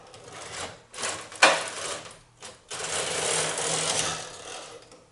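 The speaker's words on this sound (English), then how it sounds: "I'm going to make sure that's threaded up and go ahead and knit a plain row." A domestic knitting machine's carriage runs back and forth across the needle bed, knitting a plain row for a double 1x1 rib neckband: loud mechanical rushing sweeps broken by brief pauses and a sharp clack, with no talking.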